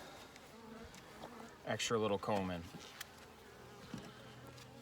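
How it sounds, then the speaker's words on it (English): Bees humming inside a top bar hive as combs are set back in place, a low steady buzz heard under a brief spoken phrase, with a few small handling knocks. "Get these in without crushing any bees."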